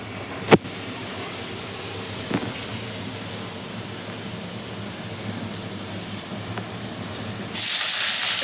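Chopped garlic frying in oil gives a steady, close sizzling hiss with a couple of faint clicks, swelling abruptly louder near the end.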